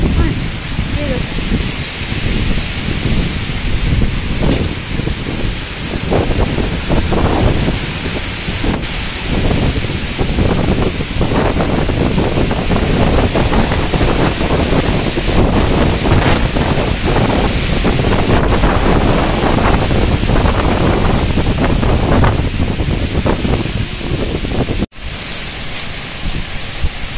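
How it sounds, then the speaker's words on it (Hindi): A strong storm near a home in the Indian hills, with wind buffeting hard and continuously, close and loud, and a rain-like roar throughout for nearly half a minute. "ये देखो गाइस इतनी खतरनाक तूफान आ गया"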